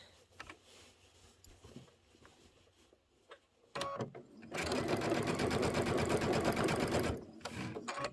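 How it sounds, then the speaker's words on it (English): A sewing machine stitches down a dotted line on a quilted appliqué project, running steadily for about three seconds after a few quiet clicks and handling sounds, then slowing and stopping. "I'm sewing right down that dotted line right there"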